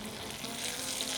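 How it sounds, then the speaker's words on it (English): Potatoes and onions fry in a pan over a campfire outdoors, giving a steady, continuous close sizzle with fine crackle throughout and no talking. "nothing like a good tater sizzle over a campfire"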